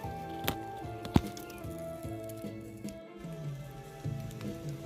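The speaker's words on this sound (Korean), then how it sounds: "오후에 좀 소강 상태가 되더니 다시 또 비가 떨어집니다" Steady rain patters and drips on surfaces on a mountain hillside, with a few louder individual drops and faint cuckoo and other birdsong in the background.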